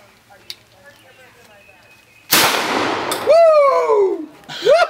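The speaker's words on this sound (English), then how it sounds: "Bam! That's a shot." A single loud crack rings out from an adaptive rifle fired at a summer camp, then excited shouts and cheering voices follow close by.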